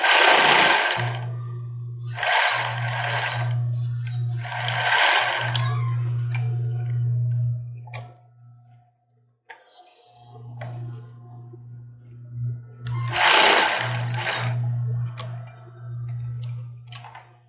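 A sewing machine stitches a children's bra in several runs, its motor humming steadily between pauses, with bursts of fabric rustle and handling noises.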